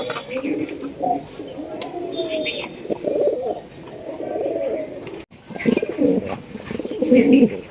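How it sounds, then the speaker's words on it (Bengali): A pair of large Gopalganj pigeons at a breeding farm coo in repeated, throaty, rolling calls close by, mixed with occasional chirps while a person talks over them. "এখানে দেখেন কত সুন্দর এক জোড়া কবুতর মার্শাল্লাহ দেখেন অস্থির ডাক এটা"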